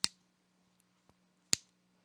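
Sharp, bright clicks from a genuine Victorinox Swiss Army knife as its blade snaps into place, two strong snaps with a faint tick between them, held close and heard alone over a low steady hum.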